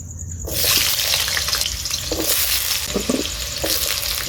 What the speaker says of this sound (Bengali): এবার আলুগুলোকে আমি লাল লাল করে ভেজে নেব